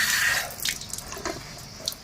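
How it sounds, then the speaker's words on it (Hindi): Water runs from taps at a government inter college in a steady, moderately close wash with faint splashes and a few brief drips, and no one speaks. "आज भी नलों में पानी आ रहा है, आप देख सकते हैं"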